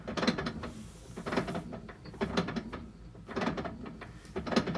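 A washing machine clunks rhythmically during its agitation cycle, roughly one heavy mechanical knock per second, with a grinding rumble between the thumps.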